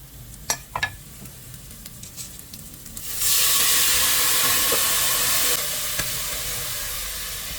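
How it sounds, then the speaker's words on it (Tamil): Soaked, washed basmati rice is sautéed in a pan for coconut milk rice. A few light scraping clicks come first, then a loud, steady sizzling hiss rises suddenly and holds, fading slightly near the end. "இதை கொஞ்சம் வதக்கி விடணும்"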